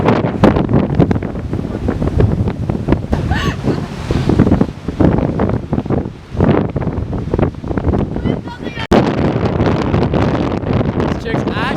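Strong sea wind buffets the microphone in steady roaring gusts near the shore, with waves beneath and a brief dropout near the end.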